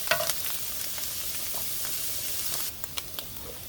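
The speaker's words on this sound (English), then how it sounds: "We're gonna saute these." Vegetables and onions sauté in a pan with a dense, steady broadband sizzle that holds evenly, then thins out as a few light stirring clicks and knocks come through near the end, close and without speech.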